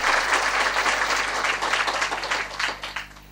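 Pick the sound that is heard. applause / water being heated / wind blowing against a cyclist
applause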